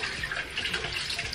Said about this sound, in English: I'm gonna go ahead and take some room temperature water and just rinse my face.